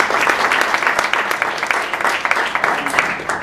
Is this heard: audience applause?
yes